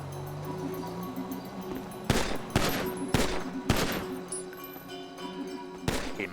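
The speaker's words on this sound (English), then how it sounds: "I moved a little closer so I could get a clean shot." Gunshots in GTA V: four loud, sharp cracks in quick, irregular succession, followed by one more shot after a pause, over a low ambient game hum.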